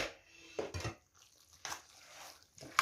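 Spoon stirring fried vegetables into a rice filling for stuffed peppers in a pot, giving a few short scraping, clinking bursts separated by quiet pauses, close and fairly soft.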